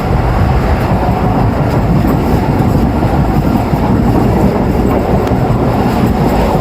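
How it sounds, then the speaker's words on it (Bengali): An intercity passenger train travels from Parbatipur to Panchagarh, making a loud, continuous rumble of wheels and carriages. The steady noise runs without a break and nobody speaks. "ইন্টারসিটি ট্রেনে পার্বতীপুর থেকে পঞ্চগড়ে আগমন"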